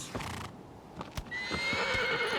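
A horse in the Shadow of the Colossus game: hooves clop up close, then the horse lets out a loud, drawn-out neigh with no talk over it.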